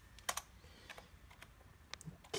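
Quick bursts of typing on a computer keyboard, a few clustered key clicks with short pauses between them, close and fairly quiet.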